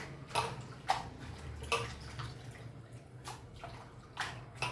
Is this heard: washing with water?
yes